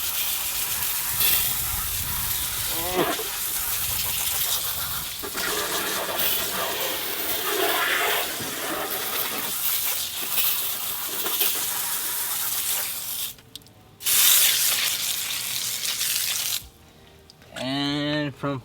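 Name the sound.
garden water hose spraying dirt off a car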